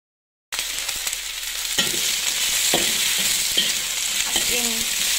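Scallions fry in a hot pan, a continuous crackling sizzle that begins abruptly and holds steady, with a few stirring knocks and scrapes up close.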